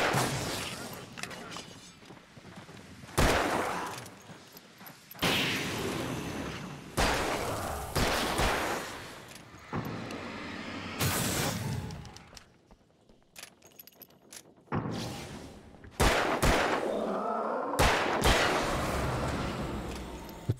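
Revolver shots in the video game Alan Wake, loud, broadband bangs roughly every two seconds, each trailing into a short echoing decay, with other game noise in between.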